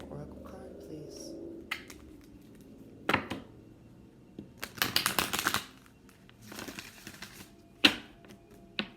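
A deck of oracle cards being shuffled by hand, several separate bursts of riffling and flicking between quiet pauses, close to the listener, with faint talking underneath.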